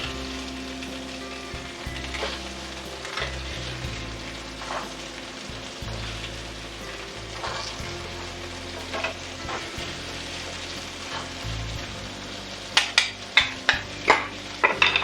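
Burgers sizzling steadily in a hot pan, a continuous close frying hiss with occasional spatula scrapes and a few sharp taps of the pan near the end, no talking.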